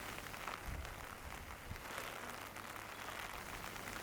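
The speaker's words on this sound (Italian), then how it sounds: "Mentre ha ripreso a piovere nuovamente" Steady rain falls across the streets of Tangier, Morocco, a continuous soft hiss of drops on pavement and surfaces, fairly quiet and even throughout with no voices.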